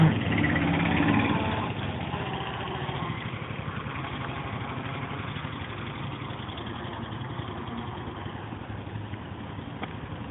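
A tractor engine runs steadily with a low, rough idling rumble throughout, with some faint voices underneath.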